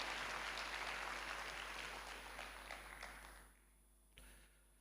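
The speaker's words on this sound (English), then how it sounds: "Ladies and gentlemen, a big round of applause for the delegation from our continent." Audience applause for a visiting delegation at a WorldSkills ceremony in South Africa, a dense wash of clapping that carries steadily, then fades out near the end with a brief final burst.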